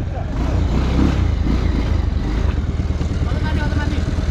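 Motorcycle engine pulling uphill, a steady loud low drone with rhythmic pulsing that throbs throughout, close by, with voices talking over it.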